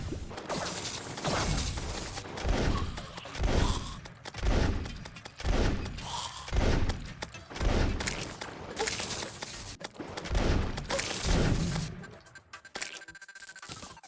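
Repeated blunderbuss blasts from the Terraria Calamity Mod, loud booming shots at a steady rhythm of roughly one per second, with mechanical clicks and game effects in between and a quieter stretch near the end.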